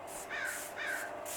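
Crows caw twice in a park where peanuts are being put out, two harsh, fairly loud calls in quick succession with nothing else competing.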